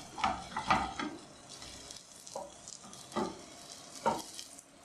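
Eggs frying in a pan for breakfast, a soft sizzle with occasional spatula scrapes and stirring clatter, close by and with no talking.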